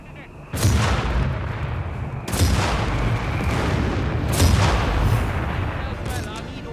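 Artillery barrage from a BL 5.5 artillery emplacement in Company of Heroes 3, three heavy booming blasts spaced a couple of seconds apart, each trailing into rumbling explosions and scattered gunfire, loud and close, under a speaking voice.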